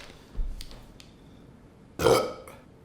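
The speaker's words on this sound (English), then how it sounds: "So here we go, the burping contest, round 2." Two burps come during a burping contest: a short low one early on, then a louder, longer, throaty belch near the end, with a few faint clicks in between.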